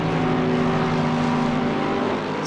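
Race cars in Assetto Corsa Competizione at Silverstone roar together in a loud, steady engine drone as one overtakes a slower car, with no pause in the noise.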